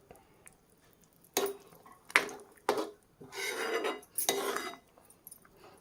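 Metal clanks and clatters as a lid goes on a pan of mixed vegetables with potato and aubergine, several sharp knocks followed by longer scraping rattles, close by with no talking.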